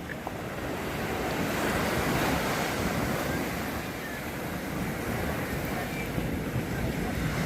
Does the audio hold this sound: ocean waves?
yes